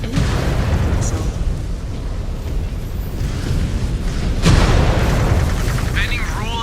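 Missile explosions in a mech combat video game: a constant heavy, rumbling din with booming blasts, one loud burst standing out midway, all under continuous battle noise.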